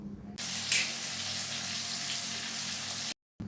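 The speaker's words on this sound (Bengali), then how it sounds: "ভালোভাবে কষিয়ে নেবো" Tomato and green chilies sizzle steadily in a hot pan for a rui fish curry, a close, continuous hiss with no one talking.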